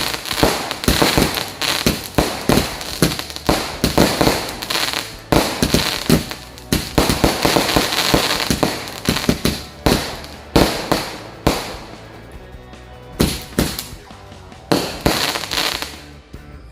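Firecrackers and fireworks set off on takbiran night in a village keep up dense, rapid crackling bursts and sharp bangs for the whole stretch, loud and close with brief pauses near the end.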